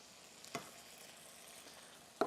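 Faint, steady sizzle of steak frying in a pan, with a couple of soft clinks or pops cutting through the hiss.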